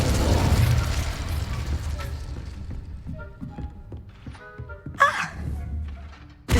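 Confringo and Incendio spells in Hogwarts Legacy: a rumbling fiery burst fades into scattered mechanical thunks and crackles, then a sharp bright whoosh flares near the end, with a voice occasionally over it.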